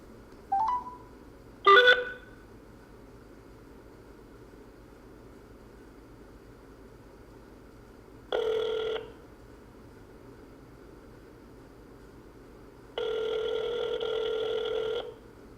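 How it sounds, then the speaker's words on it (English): Telephone in the Madden video game: a few short dial beeps, then two spaced ringback tones of roughly a second or more each, in a quiet line. "I'm making a phone call, man."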